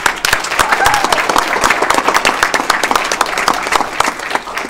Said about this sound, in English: let's give her one big round of applause